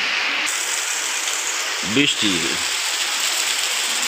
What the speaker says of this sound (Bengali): তো আমরা সেই রহমতের বৃষ্টি আপনাদেরকে দেখাচ্ছি।